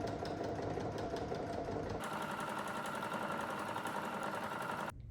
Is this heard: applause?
no